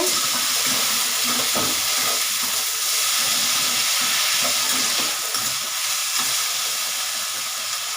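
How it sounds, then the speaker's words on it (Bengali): Bitter gourd and potato fry with dried chillies in hot oil, with fish frying in the same pan, giving a loud, continuous hissing sizzle that stays even throughout. "উচ্ছে আলু দিয়ে দিলাম আর এই সাইডে মাছ ভাজা হচ্ছে"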